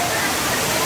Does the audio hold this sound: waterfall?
yes